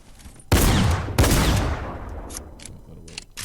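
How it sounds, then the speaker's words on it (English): A tactical shotgun fires in a video game: two loud, booming blasts about half a second apart, each trailing off, followed by quieter clicks and game sounds. "Tactical shotgun?"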